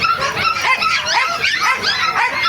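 Several small dogs, puppies and poodles among them, bark, yip and whimper in a busy pet stall at a Bocaue flea market, with dense overlapping high-pitched barks running nonstop throughout.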